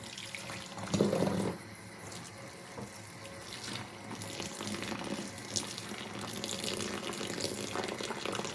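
Water running and splashing in a sink while a hand-knitted garment is washed and rinsed, a brief louder swish early on, then a steady trickling wash that continues without any talking.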